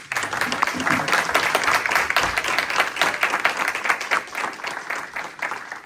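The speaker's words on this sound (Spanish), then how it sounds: "Vamos a darle un fuerte aplauso yo también." Sustained, energetic applause from a church congregation thanking the worship team after a service, many hands clapping densely and continuously, with a few sharper individual claps standing out near the front.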